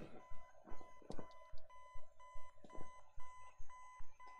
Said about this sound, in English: That's not the usual alarm sound.